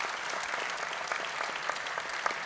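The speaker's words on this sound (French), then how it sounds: "des applaudissements nourris pour nos 3 intervenants de cet après-midi" Sustained audience applause for three panelists at an afternoon climate conference, a dense steady wash of many hands clapping at even loudness for the whole stretch.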